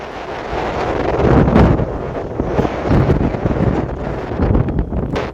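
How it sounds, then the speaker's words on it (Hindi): Strong wind gusting as the weather suddenly turns cloudy in Madhepura, buffeting the microphone with a loud, continuous roar that swells and eases for several seconds. "तेज हवाओं के साथ बादल छा गए"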